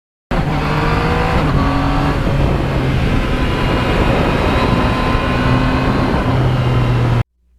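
A modified 2020 Yamaha MT-09 motorcycle engine running loud and close, a continuous powerful drone with shifting tonal pitch lines across several seconds, no voices.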